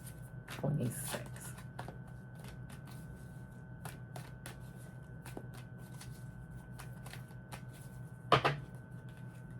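Tarot cards riffled and shuffled in short bursts, with light flicks and taps between them while a person speaks over a low room hum.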